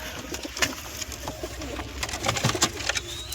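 Large pigeons coo in a few soft, throaty bursts nearby against a quiet background, with no talking.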